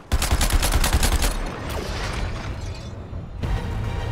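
Rapid gunfire from the Suicide Squad: Kill the Justice League video game, a dense burst of loud shots for about a second and a half, then a crashing, rumbling aftermath as the shooting stops and resumes faintly.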